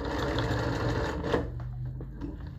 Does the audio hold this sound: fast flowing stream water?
no